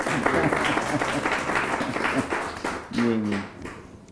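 Audience applause during an Islamic sholawat gathering, a steady wash of clapping lasting about three seconds with talk and a brief sung or spoken voice over it near the end.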